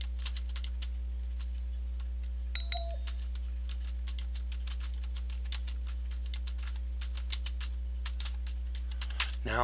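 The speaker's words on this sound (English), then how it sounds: "Now I'm having a hard time typing today." Keys are tapped on a computer keyboard in an uneven, steady patter of light clicks, close and fairly quiet over a low electrical hum, with a brief faint tone partway through.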